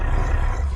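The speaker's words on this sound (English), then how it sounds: "a lot of the Ravager sound effects seem to have an undertone of honking to it. Again, listen to those grunts and roars." Deep, rumbling roar from the Ravager beast in Minecraft, a loud continuous growl with a faint honking undertone, heavy and close throughout the short stretch with no pauses.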